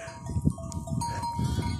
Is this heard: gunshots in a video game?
no